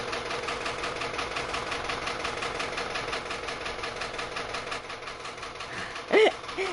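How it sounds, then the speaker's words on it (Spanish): A broken electric fan runs steadily in a room, a continuous whirring hum with a faint rhythmic knocking pulse throughout, close and moderately loud, joined briefly near the end by a short vocal sound. "Encima van a escuchar un ruido raro porque está el ventilador."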